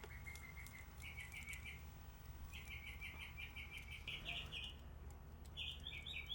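Bird calling at a Florida native plant nursery: a series of quick, high chirps in short bursts, repeated several times over a low outdoor hum, moderately distant and fairly faint.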